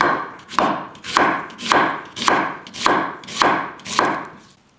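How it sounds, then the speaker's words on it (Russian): A knife chops steadily on a cutting board, slicing a small red onion into thin rings, seven or eight crisp, evenly spaced strikes, close and loud, then stops. "Нарезаем его тоненькими колечками."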